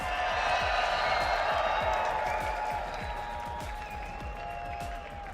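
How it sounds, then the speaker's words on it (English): A large arena crowd at an Apex Legends esports tournament playoff roars and applauds, a sustained wash of cheering and clapping with a steady tone running over it, fairly loud throughout. "The crowd is heated up."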